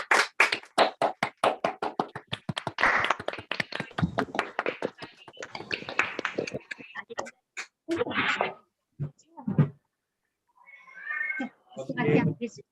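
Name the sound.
participants clapping unmuted in online session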